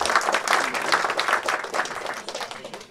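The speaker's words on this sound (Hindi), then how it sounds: "उनके लिए एक बार जोरदार तालियां संजय सिंह नेगी जी के लिए।" Audience applause for Sanjay Singh Negi at a Hindi film poster and trailer launch, a steady crowd of hands clapping for about three seconds, dense and fairly close without a break.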